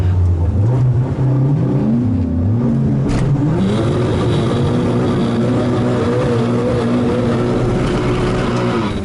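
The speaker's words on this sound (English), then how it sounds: "This is my first timed run of 2019 with the Elantra" A Hyundai Elantra on a timed autocross run, the engine revving up and down through gear changes, loud and close in a continuous rising and falling drone.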